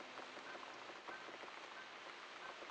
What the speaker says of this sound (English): Looks like we got the rain back.